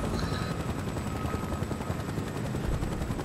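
Helicopter rotor drone mixed with gunfire in the video game Battlefield: Bad Company 2, a steady dense roar throughout with a faint high whine and no voices.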